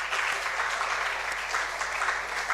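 An audience at an inter-school debate applauds the participants with dense, even clapping that holds steady and fairly loud throughout.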